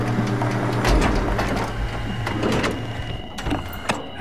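A pilot seat activating in the video game SOMA, giving a mechanical whirring hum with repeated clicks and servo-like movement sounds, steady and close, no voices.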